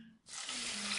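After a brief quiet moment, water begins pouring steadily into a sago mixture, making a close, continuous splashing rush like a running tap, with no talking.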